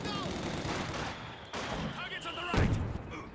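Sniper gunfire in a strategy video game: a few sharp, fairly loud shots that cut through a steady bed of battle noise, heard under ongoing commentary.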